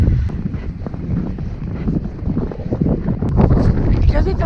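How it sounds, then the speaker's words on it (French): Strong wind buffets the microphone throughout with a steady low rumble and gusts, loud and close, with voices faint beneath. "Alors, je pense qu'il y a du vent."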